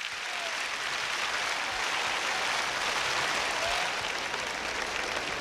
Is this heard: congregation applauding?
yes